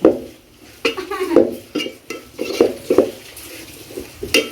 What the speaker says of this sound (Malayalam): ഇത്രയും കാര്യങ്ങളാണ് നമ്മൾ ആ വെളിച്ചെണ്ണയിലേക്ക് വറുത്ത് ചേർക്കുന്നത്